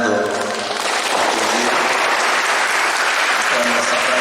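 Loud, dense applause from an audience at an Islamic boarding school gathering in Indonesia, sustained and steady for several seconds with a crowd murmur beneath the clapping.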